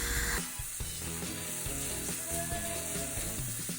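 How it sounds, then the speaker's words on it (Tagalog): Tomato, onion and garlic paste sautéing in a pan for chicken masala curry, a steady close sizzle running throughout with faint clinks of a utensil stirring against the pan, no talking. "maggisa tayo ng kamatis, ng sibuyas at saka yung garlic paste hanggang sa mag light brown siya"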